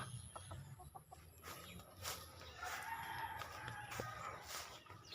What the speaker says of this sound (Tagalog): puro na gid ni sila na manok sulod karon